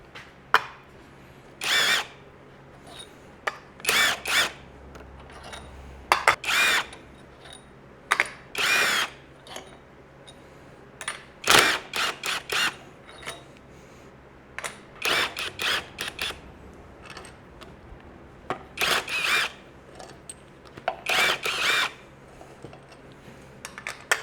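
Cylinder heads coming off a 1964.5 Mustang's Ford 302 V8 with a power tool, repeated loud bursts of drilling or impact-driver whine in short rhythmic clusters against quiet gaps, with occasional metal clinks between runs.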